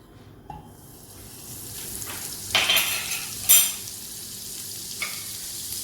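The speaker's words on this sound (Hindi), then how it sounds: "अब मैं इसमें 1 टेबलस्पून मक्खन डालूंगी।" Butter dropped into hot oil in a pan for white sauce, giving a soft sizzle that builds with a few sharp spitting bursts and clinks, fairly close and without talk.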